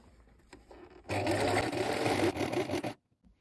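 A sewing machine runs steadily for about two seconds, stitching a shirt's button plackets 2 mm from the edge with a lengthened stitch, close and fairly loud, with quiet handling sounds just before and after.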